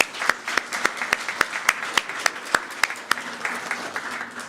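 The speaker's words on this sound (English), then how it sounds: "So now we can applaud." A church congregation claps during a service, a steady round of applause with sharp individual claps standing out at an even rhythm, moderately loud and close, with no talk over it.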